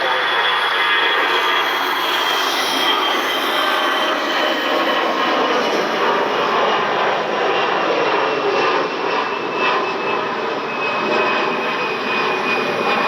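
Delta jet engines roar steadily at Cleveland Hopkins airport on a rainy night, a loud, continuous, unbroken rumble filling the whole stretch.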